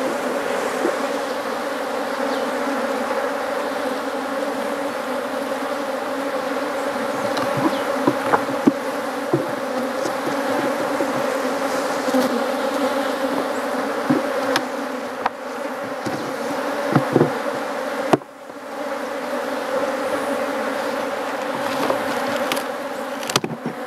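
Honey bees swarm and buzz around an opened hive while a colony is being split into two, a dense, steady droning hum that continues throughout with a few faint knocks and handling noises.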